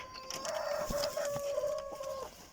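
Egg-laying hens clucking inside a backyard coop, a steady run of close, overlapping clucks and squawks with no talk.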